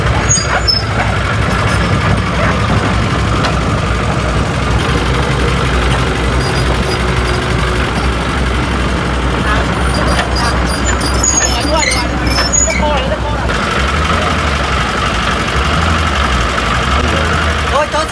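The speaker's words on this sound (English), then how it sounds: "the vehicle gradually overcame the obstacle and continued its journey, the sound of its engine echoing through the construction site" A truck's diesel engine rumbles steadily at a construction site, a loud continuous low drone with knocking undertones and occasional hissing and clanking, with other machinery noise mixed in and no pauses.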